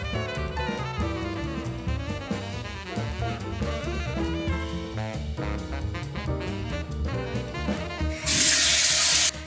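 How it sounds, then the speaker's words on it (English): Tap water gushes loudly for about a second near the end while washing the face, following steady background music. "Apply little water on my face"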